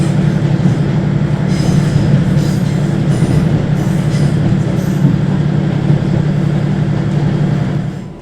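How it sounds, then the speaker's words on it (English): A train rolls steadily through Stockton railway station, a loud continuous rumble with faint high wheel squeals and clatter, fading slightly at the end. "We are now passing through Stockton railway station itself."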